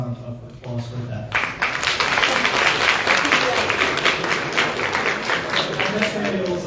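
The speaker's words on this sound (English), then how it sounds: "So I think we deserve another round of applause for that." A university debate audience breaks into applause after a short spoken introduction, with dense, sustained clapping from a large room that carries on to the end.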